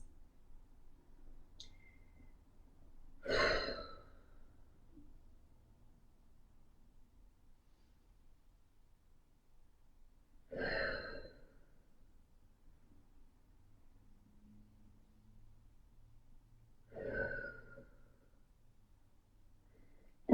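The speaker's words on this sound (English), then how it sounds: "So I want us to do 3 deep breaths." Three slow deep breaths during a foam roller workout, each a soft airy inhale-exhale spaced several seconds apart in an otherwise quiet room.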